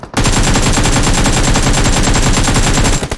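Rapid automatic gunfire in the mobile battle royale game PUBG Mobile, a loud unbroken burst of evenly spaced shots lasting about three seconds, then cutting off abruptly.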